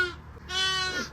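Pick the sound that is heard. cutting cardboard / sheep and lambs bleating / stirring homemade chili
sheep and lambs bleating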